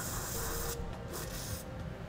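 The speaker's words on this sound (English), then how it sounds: "If you spray some lubricant in there" Lubricant hisses from a spray can into the frame weld nuts of a vehicle during a trailer hitch install, a close, steady spray that shifts in intensity in short bursts.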